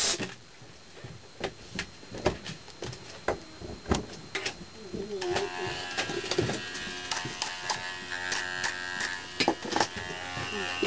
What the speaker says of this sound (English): A Remington clipper.